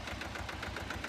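A tractor engine idles steadily with a close, even, rhythmic chug and knock, heard alone.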